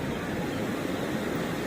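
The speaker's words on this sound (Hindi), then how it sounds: "यह है द्रंग वाटरफॉल," Drang waterfall in Kashmir gives off a continuous, broad rushing roar of falling water, steady and fairly loud, with no talk.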